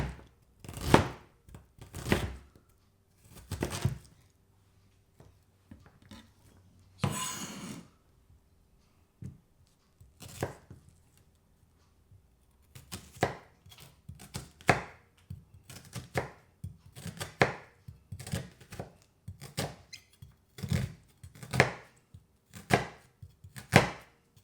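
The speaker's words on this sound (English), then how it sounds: "cut the onion before the garlic" A knife chops onion and garlic on a cutting board in sharp, close thuds that come in irregular bursts and then settle into a faster, steadier rhythm, with no talking.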